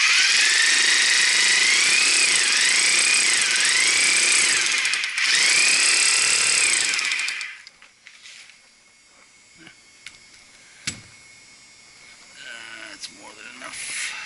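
Power drill boring into chiller chemical treatment piping, a loud sustained high-pitched whine running steadily for about seven seconds with a brief dip, then cutting off to quieter shop noise and a few clanks.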